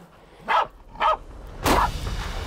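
A hunting dog barks at a wild boar: two sharp, fairly close barks about half a second apart, then a longer, rougher outburst over steady outdoor background noise.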